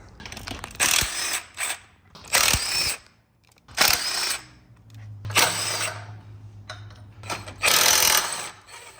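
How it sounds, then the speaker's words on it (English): Exhaust manifold nuts coming off a Mitsubishi Evo X engine with a ratchet, repeated bursts of rapid clicking ratcheting separated by short pauses, close and fairly loud. "we're gonna start removing all the nuts for the manifold"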